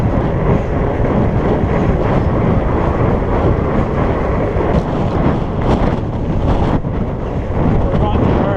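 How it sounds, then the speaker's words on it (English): Strong west wind buffets the microphone during a fat bike ride on a Surly Moonlander, a loud constant roaring rumble that masks everything else for the whole stretch. "we're dealing actually with pretty strong wind this morning coming out from the west"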